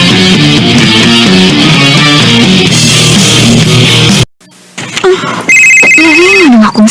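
A cellphone ringtone plays loudly as a melodic electronic tune, cuts off abruptly, then resumes with shrill synthetic ringing tones.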